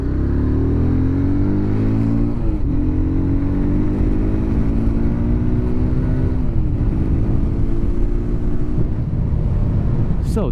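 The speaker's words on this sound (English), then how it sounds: "there's a good amount of cars out here at this time" Cars passing on a road at night, loud continuous engine rumble with rising and falling whooshes as vehicles go by close, heard alongside steady wind noise.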